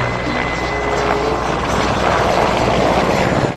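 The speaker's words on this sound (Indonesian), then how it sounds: "Wah, yang ini helikopter militer." Military helicopter, heard as a loud, continuous rotor roar with a whining engine tone, steady and close for a few seconds before cutting off abruptly.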